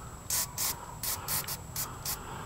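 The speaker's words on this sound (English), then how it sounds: "we'll go ahead and spray this down real good" Fluid Film rust and corrosion protection fluid sprays from an aerosol can onto a furnace blower motor in six short, sharp hissing bursts in paired rhythm, close by against a quiet background.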